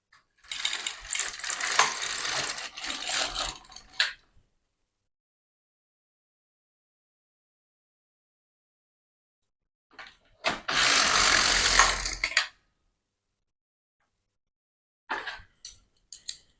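A domestic knitting machine carriage is pushed across two rows, each pass a loud, close mechanical ratcheting clatter lasting a few seconds, separated by a long silence and followed by a few short clicks.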